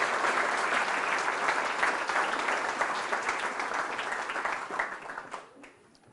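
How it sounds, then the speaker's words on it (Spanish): A church congregation applauds during a Sunday sermon: dense, loud, sustained clapping from many hands that fills the room, then thins and fades near the end. "Dale un aplauso al Rey de Reyes."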